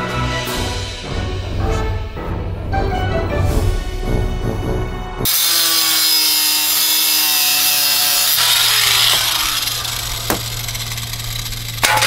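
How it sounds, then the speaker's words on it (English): Cutting into the plastic rear bumper of a BMW E36 produces rasping, sawing strokes, first a series of choppy cuts, then a smoother continuous grinding whine, close and loud with no talk. "cut into the bumper a little bit to make the line straight"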